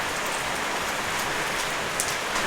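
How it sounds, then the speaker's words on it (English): Steady rain falls outdoors in a dense, even hiss with no pauses, fairly loud and close, and a few slightly stronger drop patters break through it. There is no speech. "And folks, it's raining today."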